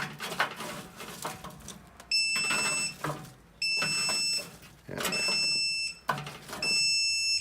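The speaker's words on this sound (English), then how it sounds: "Yeah, that's the fan alarm going off." An alarm goes off during a long kettle grill brisket cook, sounding in repeated loud high-pitched beeping bursts with short gaps between them over faint background noise.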